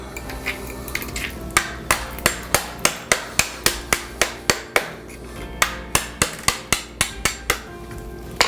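A hammer chops out a broken floor tile laid on concrete, striking in a steady run of sharp, loud, close blows about twice a second with a brief pause midway.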